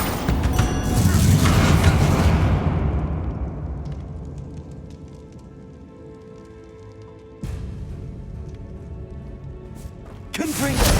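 Confringo and Bombarda spell blasts in the Hogwarts Legacy video game: a loud booming burst fades into a crackling rumble, then two more sharp impacts hit near the end, with a voice calling out over them.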